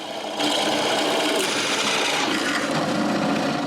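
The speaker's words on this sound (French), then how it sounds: "après avoir marqué le centre, je perce un trou de la grosseur de l'arbre" A drill bores a hole through wood for a shaft in a homemade edge sander, a steady continuous whirring grind that starts abruptly and holds loud and close for a few seconds with no talk.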